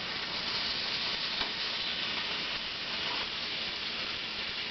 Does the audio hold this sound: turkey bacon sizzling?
yes